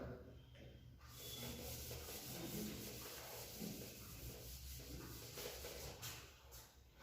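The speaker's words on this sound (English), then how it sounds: "So for CGST, I'm rubbing the board here." A teacher rubs a classroom board clean, giving a steady, soft scrubbing and swishing that runs for several seconds at a fairly low level, with no speech.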